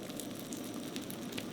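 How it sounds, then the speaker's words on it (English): Partly cooked rice fries in about two tablespoons of hot oil on a Skottle grill at an off-road campsite. It makes a soft, steady, continuous sizzle with light crackle and no talking. "And we're gonna start mixing it and frying it."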